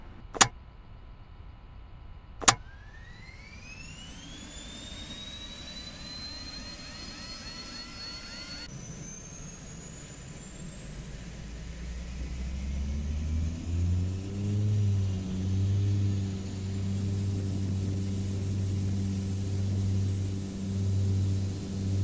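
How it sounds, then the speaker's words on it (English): A Carenado Cheyenne III turboprop in a flight simulator starts its right engine: two sharp clicks, then a rising turbine whine that climbs and levels off, followed by a deep, swelling engine rumble that settles into a steady drone. "we'll start the right engine first."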